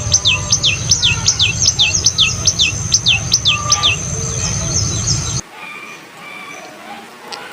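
Lovebirds chirp in a rapid, evenly spaced run of sharp, high tweets over a low rumbling background, then stop abruptly, leaving only faint scattered calls.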